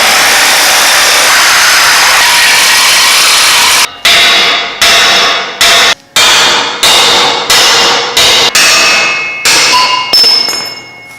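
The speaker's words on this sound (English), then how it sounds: "I just hit it with a hammer and broke it here" Hammer striking a sawn axle housing during a 14-bolt to 13-bolt crane axle conversion: after a loud grinding or sawing roar, a series of about ten sharp metallic blows rings out close, each followed by a fading ring.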